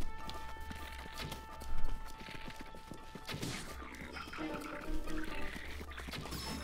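Horse hooves clip-clop in The Legend of Zelda: Breath of the Wild near a beach, a rapid, fairly close run of hoofbeats with a louder burst of clopping partway through, alongside scattered game effects.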